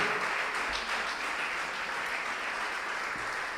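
A church congregation breaks into sustained applause during a Spanish-language service, the clapping full and even from start to finish with no speech over it.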